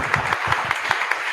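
A class audience in a lecture hall claps in a short burst of uneven, fairly close applause from a small group.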